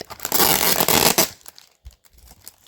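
A loud, crackling rip as tape is pulled off the paper packaging of an action figure, followed by quieter rustling and faint handling noises.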